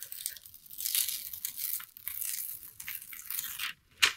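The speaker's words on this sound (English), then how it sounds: "And we'll just peel that off." Backing paper peeling off heat-set book cloth in a slow, close, crackly tearing rasp that pauses briefly, then ends in a sharper final rip.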